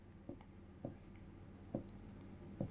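A teacher writes on a classroom board during a Class 12 chemistry lesson, four short distinct scratchy strokes of chalk or marker spaced apart, faint and close, with no talking.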